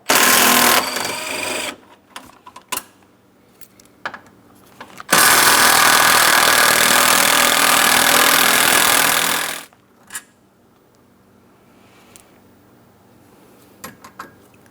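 A power tool removes 10mm mounting bolts from the radiator of a 2008–2016 Chrysler Town & Country 3.8L V6. A short loud burst is followed later by a long whirring run of about four seconds, with clinks of hardware between and after.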